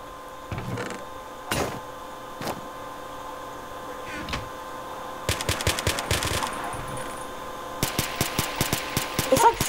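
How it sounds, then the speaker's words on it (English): Rapid bursts of gunfire from a Minecraft survival games match with guns, crackling in quick rhythmic volleys, sparse at first and then denser, at moderate loudness with faint game ambience between bursts. "they're just shooting and it's really scary, man"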